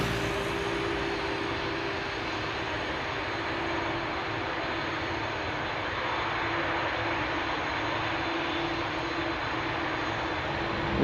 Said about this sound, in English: The Bizjet just now took off from runway 22.